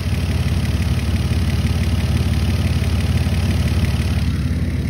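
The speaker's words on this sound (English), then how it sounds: "Let's look at the motor real quick. I have it running." A 2006 Mercury Milan's 3-liter V6 idles steadily up close under the open hood, a continuous even engine hum with a faint ticking rhythm and no speech.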